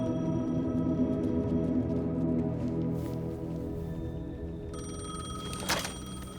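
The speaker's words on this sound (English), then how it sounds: "The payphone was ringing." A payphone rings in the video game Alan Wake 2, its electronic bell tones sitting over a dense, droning ambient background, with a sharper burst near the end.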